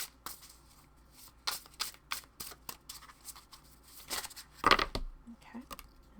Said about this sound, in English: just get a couple more oracle cards